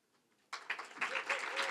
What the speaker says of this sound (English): we'll give you a round of applause for graduating with a minor